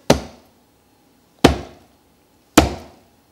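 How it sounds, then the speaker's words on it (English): A hammer strikes a bowl of oobleck, a cornstarch-and-water goop, three times hard, each blow a sharp, loud thud followed by a short decay, spaced about a second and a half apart. "if I hit it hard, because of the way it is, it'll stop the hammer from really going in very far"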